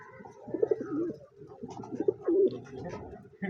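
A pair of Madras pigeons coos up close with soft, repeated throaty coos in an uneven rhythm and faint chirps in between.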